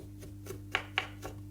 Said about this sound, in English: you can just use a teaspoon and get the peel off